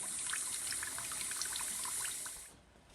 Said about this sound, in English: I'm going to bring the water up to level with the milk